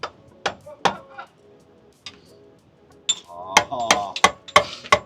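An axe used as a hammer, striking metal while servicing the rear differential of a Dodge Ram 1500: a few sharp isolated whacks, then a quicker cluster of ringing blows with a faint metallic ring.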